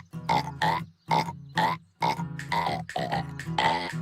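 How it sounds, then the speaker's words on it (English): A cartoon dog burps loudly in a run of about six deep, croaking, almost sung bursts separated by brief pauses. "I didn't know you could sing or, well, burp like that."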